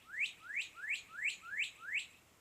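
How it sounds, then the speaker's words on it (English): Northern cardinal perched in a willow tree in a garden, singing six evenly spaced rising whistled notes, clear but fairly faint, with no talking. "I don't know if you can hear the cardinal talking. He likes to sit at the top of my willow tree"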